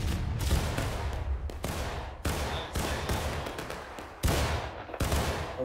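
Musket fire from War of Rights, the American Civil War game, in an independent-fire exchange: a steady stream of booming shots from many rifles, some close and loud, others distant, overlapping continuously.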